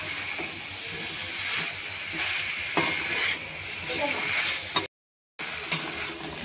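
Boiled young jackfruit being stir-fried into a cooked-down spice paste in a pan, a loud continuous hissing sizzle close by with occasional spatula scrapes, briefly cut to silence before resuming.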